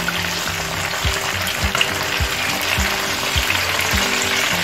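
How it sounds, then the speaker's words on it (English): Hake fish fries in a pan with hot oil, a constant close sizzle broken by several soft knocks and stirring sounds as the fish is handled. "That's how you fry your hake fish."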